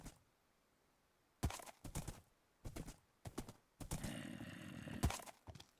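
Minecraft horse hooves clop in several short bursts, followed by a whinny-like sustained sound, all fairly close and clear against a quiet background.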